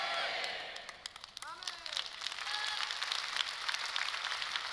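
A church congregation applauding during a Sunday service, clapping that dips briefly, then swells into a sustained, moderately distant patter of many hands, with a faint voice in the room early on.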